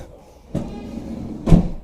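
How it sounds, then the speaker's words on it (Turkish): A 2025 Renault Kangoo Multix 1.3 TCe Techno van door is shut, giving a softer knock and then a heavier, blunt thud a second later, close by in a quiet space without speech. "Kapıyı şöyle kapatalım."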